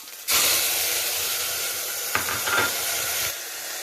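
Tomatoes dropped into hot oil with curry leaves and green chillies burst into a loud, steady sizzle that starts abruptly and hisses on close up, with a short spattering flare near the end.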